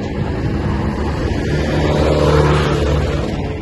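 Traffic on Aguinaldo Highway rolls past as a steady, loud roar of engines and tires, swelling slightly in the middle as a vehicle passes close by.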